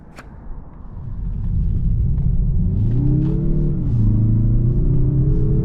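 A 2023 Mazda 3 Turbo hatchback drives on the road, its engine rumbling steadily and rising in pitch as it accelerates, with a loud, continuous drone and no voices.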